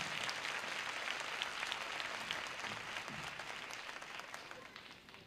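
Stadium audience applauding at a 1981 concert, a broad continuous roar of clapping from a big crowd, heard from a distance and slowly fading toward the end.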